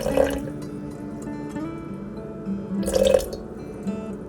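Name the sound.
water poured into bowl for sourdough dough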